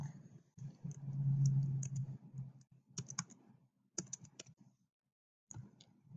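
Quiet typing on a computer keyboard, bursts of light clicking keystrokes with short pauses between them, close and faint with no voice over it.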